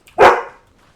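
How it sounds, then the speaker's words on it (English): A single sharp dog bark from the game Genshin Impact, loud and close, rising suddenly and fading within half a second, with no other sound around it. "Dog!"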